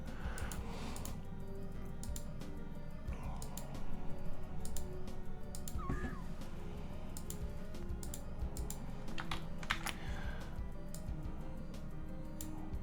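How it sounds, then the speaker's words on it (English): Sharp mouse clicks come close to the microphone, light and irregular, scattered over a quiet steady room hum, with no voices. "if you can hear the clicking of my mouse on the microphone"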